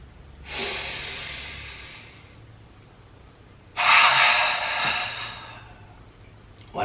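Two long, deep breaths, each a slow airy exhale lasting about two seconds, close to the microphone with a quiet pause between them and no speech.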